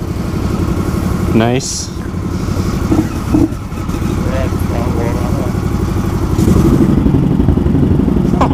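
An old Scout Bobber motorcycle engine starts and settles into a steady, loud, close idle, with a few clatters and a brief comment from someone nearby.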